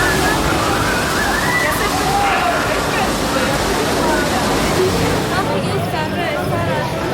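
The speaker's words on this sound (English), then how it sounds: "We have a flume with a jump." Water rushes and splashes on a log flume ride with a jump at the Wiener Prater amusement park in Vienna, a loud continuous sloshing wash with faint crowd babble mixed in.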